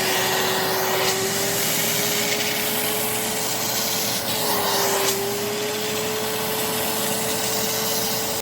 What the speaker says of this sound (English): and then we're gonna vacuum that up